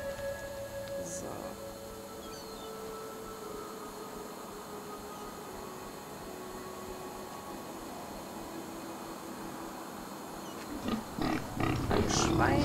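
A video game pig in the fantasy RPG Enderal grunts against a low ambient game soundscape, with quiet tones and a few brief louder bursts near the end.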